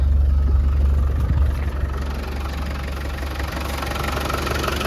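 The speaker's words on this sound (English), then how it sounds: "the engine's running nice and smooth" A 1996 Land Rover Defender 110 300Tdi diesel engine idles steadily with a low, even rumble and a faint rhythmic knock, close by and continuous, with no voices.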